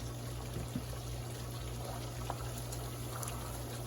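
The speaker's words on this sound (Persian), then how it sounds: "1-2 دقیقه دیگه رو جوش میتیم" A steady bubbling simmer of syrup for gulab jamun in a pot, constant and close, with faint clinks and no voices.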